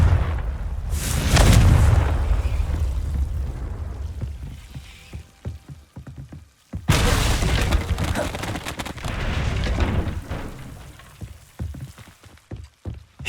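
Confringo spell blasts in Hogwarts Legacy, two big booming explosions, each followed by a long crackling, rumbling decay, loud and close.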